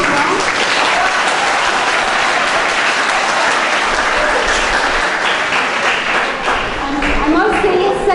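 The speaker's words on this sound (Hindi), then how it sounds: "हम लोग सही में जोरदार तालियां बजाएंगे for this real program" An audience at a stage program gives loud, sustained applause that fills the whole stretch, with voices audible beneath the clapping.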